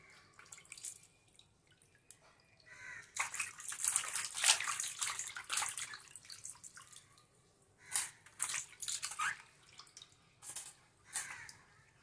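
Tap water runs and splashes while tilapia gills are washed in a sink. The flow is close and uneven, easing and swelling with dripping and handling sounds between bursts. No one speaks.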